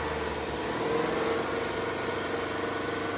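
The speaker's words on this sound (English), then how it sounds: "let this thing cook for a bit at a higher RPM." Car engine held at raised RPM during a battery test, a steady, even drone with a constant hum and no changes in pitch, close and continuous.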